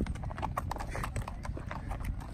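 A horse walks on a mountain riding path near Manali, its hooves giving rapid, close, evenly paced clip-clops throughout, with faint voices in the background.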